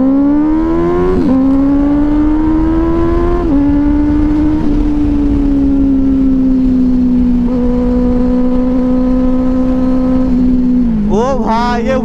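A sport motorcycle engine, Benelli 600i or Yamaha R15 V3, drones steadily and loudly during a wheelie, rising and falling in pitch with a sharp rev burst at the end.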